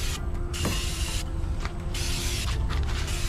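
Short hissing bursts of pest repellent being sprayed around an RV, into the wheel wells, three or four close spray pulses with a faint mechanical clicking of the nozzle in between.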